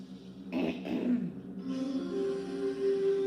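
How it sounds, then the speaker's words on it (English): A person clears their throat twice in quick harsh bursts, followed by a low hum in the background. "It's got to clear my throat."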